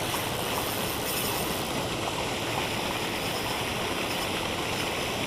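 Steady rushing water from a small waterfall pours continuously into a fish-filled pond, a dense even roar with no pauses and no voices.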